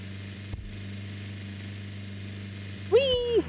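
A Jeep in the Wobbly Life video game runs with a steady low engine hum throughout, and a voice lets out a brief rising and falling cry near the end.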